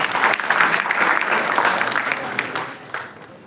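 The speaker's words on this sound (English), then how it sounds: "Why don't we give a big round of applause for all these people who are raising their hands?" Audience of students in a school hall applauds after some raised their hands, a dense sustained clapping that stays steady and then tapers slightly toward the end.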